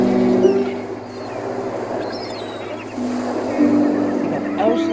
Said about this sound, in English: You got the oceans, the sea.